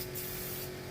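A short burst of clear matte melamine polish is sprayed onto a teak wood door, making a steady, even hiss that lasts under a second.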